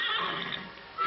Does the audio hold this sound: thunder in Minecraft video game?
no